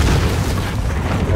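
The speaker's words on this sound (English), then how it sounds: "They're gonna blow it up." Explosion blowing up a rooftop in Call of Duty: Modern Warfare, a loud, booming blast with a heavy rumbling tail filling the whole moment, close and dominant.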